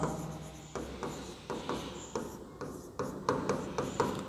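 Chalk is written on a board as a definition goes up, heard as short scratchy strokes and taps coming in a steady run of about eight bursts. The writing is close and fairly quiet, with no talking.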